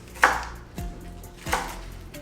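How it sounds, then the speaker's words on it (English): A knife chops green onion into half-inch pieces on a cutting board, three sharp, evenly spaced cuts with no talking. "And then we're gonna cut it into about half inch pieces."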